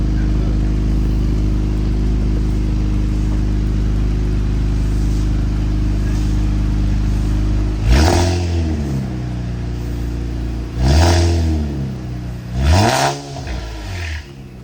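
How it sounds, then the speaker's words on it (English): Infiniti Q50 twin turbo fitted with full downpipes and an MBRP exhaust, idling with a deep steady drone, then given three short sharp revs close by. "Careful, not rev it too much."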